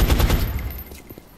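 Rapid burst of gunfire in the strategy game XCOM: Enemy Unknown: a close, loud volley of shots in quick succession that fades out over about a second, with no talking.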